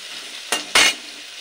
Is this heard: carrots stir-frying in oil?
yes